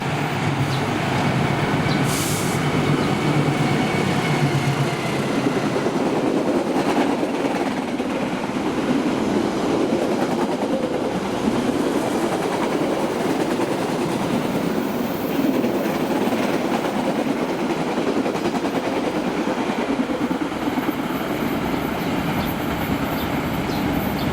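A flower-decorated locomotive hauls the KA Argo Sindoro on its inaugural run, a long, steady rumble of a passing train with faint rhythmic wheel clatter and no voices.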